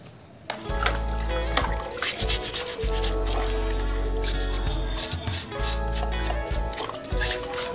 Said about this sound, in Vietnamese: các bạn dùng cái bàn chải con này các bạn chải sạch đi